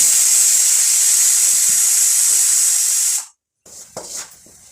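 A pressure cooker vents steam in a loud, steady, close hiss that cuts off abruptly, followed by brief silence and then some quieter clattering and rustling.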